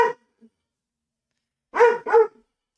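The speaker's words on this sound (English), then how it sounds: "He's just looking at his chew on the floor, barking at me because he wants me to get it for him." A pet dog barks at someone, wanting a chew toy fetched from the floor: one faint opening yelp, a long pause, then two loud, close barks in quick succession with no voices over them.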